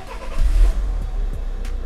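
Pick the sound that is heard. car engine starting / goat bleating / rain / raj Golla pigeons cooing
car engine starting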